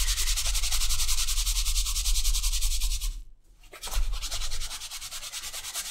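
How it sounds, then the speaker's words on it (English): Canvas scrap rubbed briskly over the finished leather of a knife sheath, a steady broadband swishing that runs close and continuous, breaks off for about a second, then resumes. "you can take them to a buffing wheel rather than just using a canvas scrap like this."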